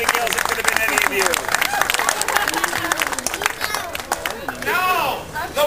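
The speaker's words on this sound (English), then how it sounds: "Put your hands together." Theme-park audience at a comic King Arthur show claps while children's voices and excited chatter rise over it, with loose, uneven clapping and a shrill cheer near the end.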